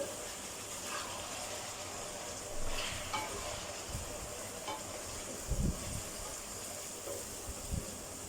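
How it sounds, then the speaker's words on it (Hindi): Chicken and onion fry in a pan with a steady sizzling hiss throughout, broken by a few louder bumps and scrapes as the food is stirred. "Now chicken is well fried. Now I add the onion."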